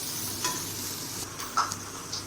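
Onions sauté in a pan with a soft, steady sizzle, broken by a few brief scraping stir strokes, fairly quiet and close.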